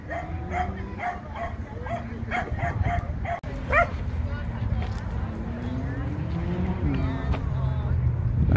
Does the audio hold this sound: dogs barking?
yes